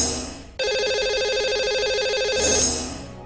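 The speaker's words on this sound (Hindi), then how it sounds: "तो लगाते हैं इन्हें अब कॉल।" An outgoing telephone call to a radio show's caller rings with a single sustained electronic ring tone lasting about two seconds after a brief pause, close and clear with no talk.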